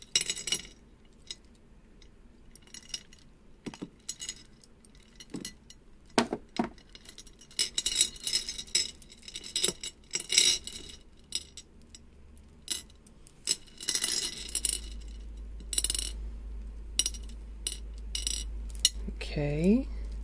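Strands of jewelry beads being cut apart, with scattered light clicks and clinks of beads spilling and knocking together, some faint and some sharper, between quiet pauses.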